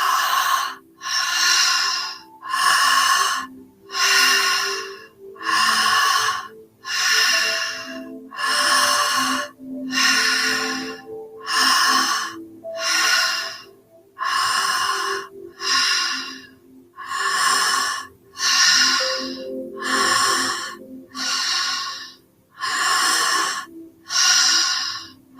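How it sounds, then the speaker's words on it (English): Deep, forceful rhythmic breathing exercise, a dynamic breath with strong inhales filling the chest: about fifteen loud, close breath cycles in a steady, even pulse, each a broad rushing whoosh separated by short pauses, with no talking. "On the inhale, pulling the breath right in, filling the upper chest,"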